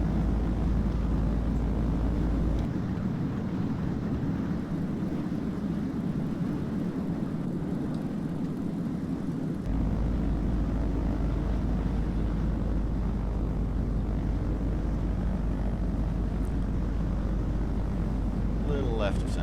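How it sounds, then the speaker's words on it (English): Steady engine drone inside a Piper Malibu Mirage cockpit in Flight Sim World, with the low rumble shifting as the landing gear lowers and then returning, a constant loud hum throughout. "Beautiful audio change once the gear comes down."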